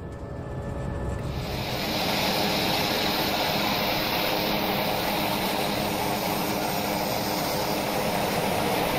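Turboprop engine of a TBM 900 taxiing in the X-Plane 11 flight simulator: a steady, loud, broadband propeller roar and whine that swells over the first two seconds and then holds constant, with no speech.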